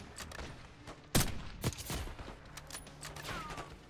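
Gunfire in the Black Ops 6 campaign finale: one loud, sharp shot near the middle, followed by a couple of weaker cracks over a busy battle backdrop.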